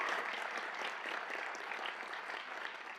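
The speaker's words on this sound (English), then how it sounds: "So give them a round of applause." Steady applause from an audience at a school board meeting honoring a Teacher of the Year, a dense wash of clapping hands that holds at an even, moderate level throughout.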